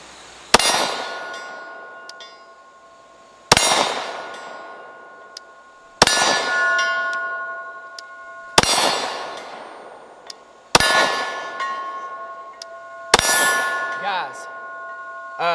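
Six loud, sharp metallic clangs ring out from a Retro Glock P80 pistol's rounds striking a steel target, each impact spaced a couple of seconds apart with a lingering bright ring that decays before the next hit.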